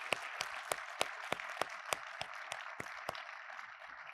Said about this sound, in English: If I could have a round of applause for the panelists.